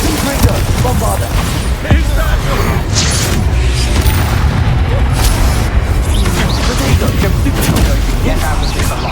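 Rapid spell explosions from Bombarda and Confringo blasts in Hogwarts Legacy combat, a dense, loud barrage of booms and crashes layered over continuous battle noise, with speech faintly present.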